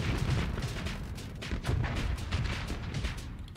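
Machine gun fire in the space combat game Starsector, a dense, continuous clatter of rapid shots and booming impacts layered over a heavy low rumble, loud and sustained throughout with no voices.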